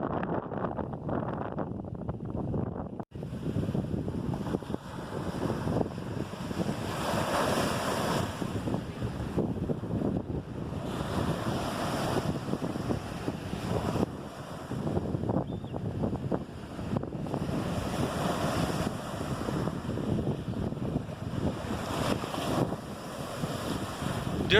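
Lake waves wash steadily onto a beach at Toronto's Centre Island, a continuous broadband surf with gusts of wind buffeting the microphone throughout, no voices present.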